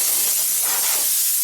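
Compressed air spraying from a blower nozzle in a shop, used to dust things off, a steady loud hiss held without a break and no voices.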